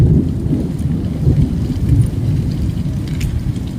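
Heavy rain pouring in Las Vegas with low, continuous thunder rumbling beneath it, a loud, close, unbroken roar of downpour.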